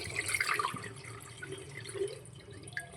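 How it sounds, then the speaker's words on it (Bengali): Sago pearls being washed and soaked in a bowl of water, giving soft splashing and dripping with light liquid sloshing, moderately close, with no one talking. "এই সাবুটাকে ভালো করে ধুয়ে ভিজিয়ে দেবো।"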